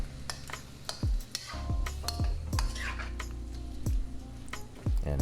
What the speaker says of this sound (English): we're gonna add in our veg that we already cooked. And we just gonna mix that together